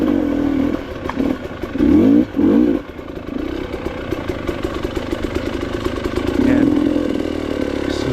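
An enduro motorcycle engine works along a muddy, rocky hard enduro trail, idling and blipping in short throttle bursts with clattery mid-range revs. It is close and fairly loud, and a brief spoken word comes near the start.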